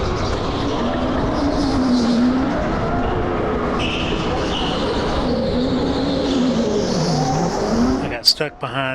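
Go-karts roar around the indoor track at Andretti Racing, a continuous loud engine drone with shifting pitch as the kart accelerates and slows, ending in a few sharp clatters.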